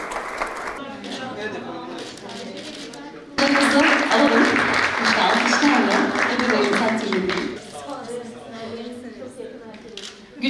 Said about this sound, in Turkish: Güçlü alkışlarınıza teşekkür ediyoruz.